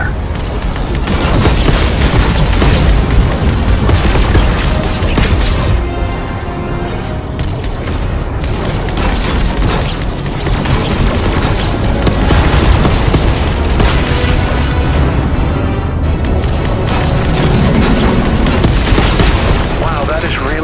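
In Fortnite's Galactus event, a bomb vehicle goes off amid a continuous roar of loud booms and rapid crackling gunfire, dense and close, with voices talking over the barrage.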